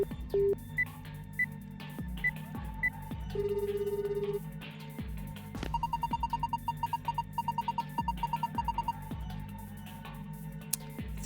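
Telephone keypad tones from a video game: several separate beeps, then a longer tone, then a quick, even run of repeated dial pulses over a low, steady background hum.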